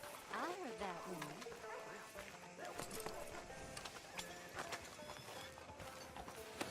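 Horse hooves clip-clop quietly and steadily in the background, with voices talking over them.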